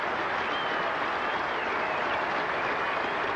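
A cricket crowd at a 1986 England versus India Test applauds the England captain Mike Gatting's century, with steady, dense clapping that carries on without a break.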